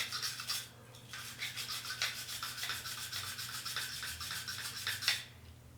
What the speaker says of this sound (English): I just want to give that screw a little bit of a brass brush